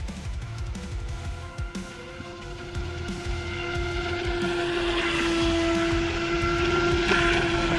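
A brushless 3S TY XIN TX768 turbojet RC racing speed boat runs flat out on the water, its high motor whine holding steady and growing louder over the choppy rush of the hull.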